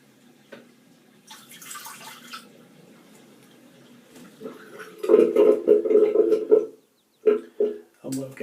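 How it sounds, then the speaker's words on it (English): A bathroom sink drains with a gurgling, sloshing flow of water at close range, mixed with talking and a few brief knocks. "I'm just going to drain the water from my sink"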